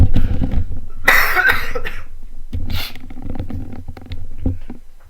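A single sharp cough bursts out close by, followed by a second rougher cough, with quiet shuffling and faint throaty noises in between.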